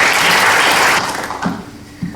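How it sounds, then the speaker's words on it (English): Dinner audience clapping loudly to welcome a speaker, a dense burst of applause that thins out after about a second and leaves a few scattered claps and faint murmurs. "So please give a warm round of applause and welcome Alison Munro."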